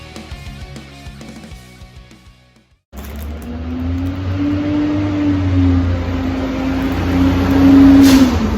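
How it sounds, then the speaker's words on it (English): A garbage truck passing by outdoors, its engine droning with a steady low tone that swells louder toward the end, after a stretch of music that cuts off abruptly. "The garbage truck is coming by."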